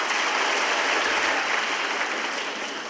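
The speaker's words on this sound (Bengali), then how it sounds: "ওর জন্য একটু হাততালি দেই" Dense, even applause from a large group of students at a school Quran distribution event, continuous clapping filling the whole span alone.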